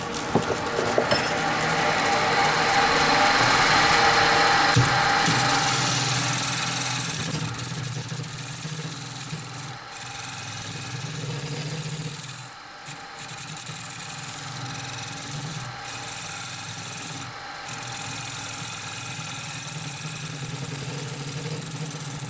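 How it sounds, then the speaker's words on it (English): A lathe turns a carrot wood vessel while a carbide cutter works in reverse, a steady motor drone with a harsher, brighter cutting rasp that fades after the first few seconds. "I'm going to do a little bit reverse turning with my carbide cutter going to the opposite side"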